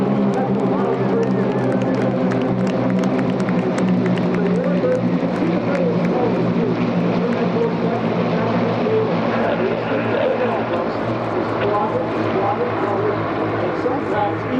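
Steady, loud propeller-aircraft drone fills the whole stretch, a continuous engine roar from warbirds flying overhead in formation at EAA AirVenture airshow, with no break.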